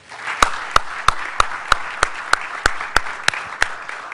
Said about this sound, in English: good round of applause for the panelists